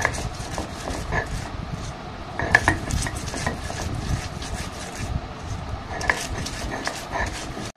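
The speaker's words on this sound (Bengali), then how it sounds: "এখন আমি পটল ভাজিটাকে এইভাবে বেটে নিচ্ছি।" Fried pointed gourd is ground by hand on a flat grinding stone, giving a close, continuous scraping and rubbing with rhythmic gritty strokes and occasional knocks.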